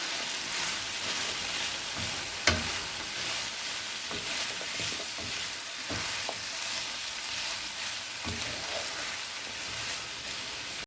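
Ground meat mince frying in a pan while bell peppers of three kinds are stirred through it, giving a steady sizzle broken by a few scraping spoon knocks, close and moderately loud with no talk.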